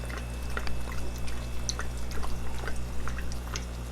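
Water holding six-day-old L134 pleco fry poured from an egg tumbler into a fry box, a close trickling pour with scattered drips and splashes over a constant low hum.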